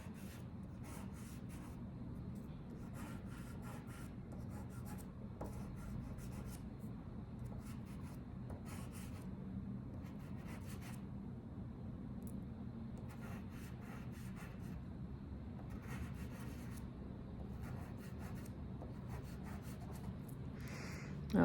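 Purple pastel rubbed across paper while shading the bottoms of grapes in a cornucopia drawing, a steady close, soft scratchy rasp with faint stroke rhythm, continuous and quiet throughout.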